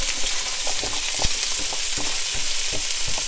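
Diced large onion sizzles steadily in a hot pan, a dense crackling hiss broken by scattered sharp pops and stirring clatters, close and fairly loud with no voices.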